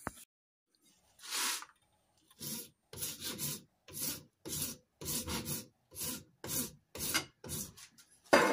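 A new length of pipe for a Lucas wheel box is cut by hand in about ten rasping back-and-forth strokes, quiet and close, after a brief pause with no talk.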